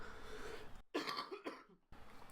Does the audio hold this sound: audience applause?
no